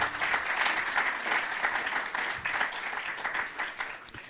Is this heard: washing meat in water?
no